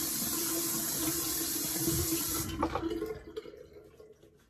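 A tap runs steadily while someone wets their face for shaving, a continuous close hiss that cuts off partway through, leaving a few splashes and drips.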